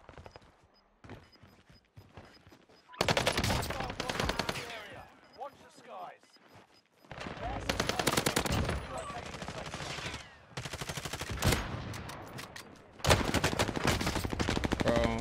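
Automatic weapons fire in Call of Duty Warzone, a game, comes in loud close bursts with quieter gaps between them. Faint gameplay sounds fill the pauses.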